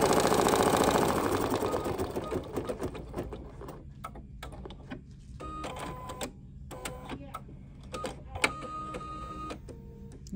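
Embroidery machine stitching a line in white thread while making an appliqué quilt block: bursts of rapid mechanical needle chatter with short pauses between runs, preceded by a louder broadband whir at the start.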